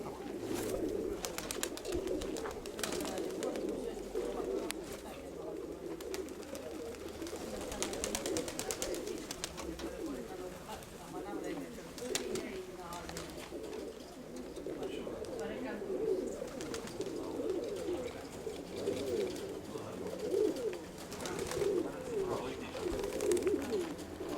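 Pigeons coo steadily throughout a dovecote, with soft overlapping throaty calls continuing the whole time while people talk nearby.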